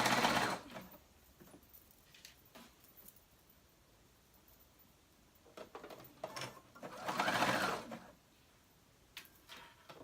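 A home sewing machine, set for heavier fabric, stitches slippery fabric in two bursts, a short run at the start and a longer whirring run near the end, with quiet handling between them.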